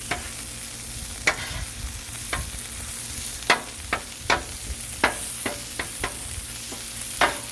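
Food browns on a Blackstone griddle with a steady sizzle, and a spatula scrapes and taps the flat-top in irregular sharp clicks, close and clear.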